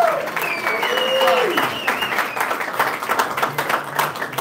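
A crowd at a boxing weigh-in applauds and cheers loudly, with dense clapping and scattered whistles, while voices carry through the noise.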